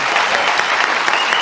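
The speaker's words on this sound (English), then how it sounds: "yeah, you can applaud for our band." A studio audience at a late-night talk show applauds the house band with a dense, continuous burst of clapping, loud and close.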